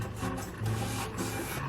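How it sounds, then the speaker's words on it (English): A wire brush scrubs surface rust off the flanges of an Infiniti Q60 in quick, faint, rhythmic rasping strokes up close. "the technician used a wire brush to remove the surface rust off of both flanges"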